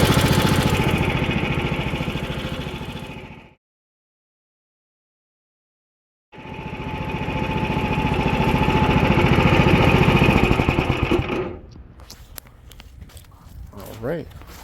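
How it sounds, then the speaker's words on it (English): Duromax 500cc engine fitted with a Predator 459 exhaust runs loud and steady, cuts out for a few seconds of silence, then roars back before dropping to a rough, sputtering idle with small knocks. "so it appears the Predator 459 exhaust will work"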